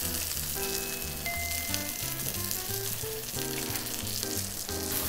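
Roast chicken skin sears in a pan in a Japanese bistro kitchen, a loud, continuous frying sizzle running steadily beneath background music.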